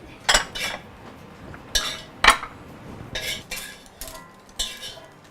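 Ceramic bowls and dishes clatter and clink as they are gathered to serve bacon fried rice, several separate sharp knocks spread over five seconds against a quiet kitchen background.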